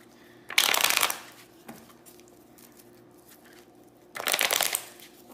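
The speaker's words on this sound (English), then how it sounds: "Let's shuffle one more time." Cards are shuffled during a psychic reading in two brisk bursts of riffling close by, separated by a quiet pause with faint room noise.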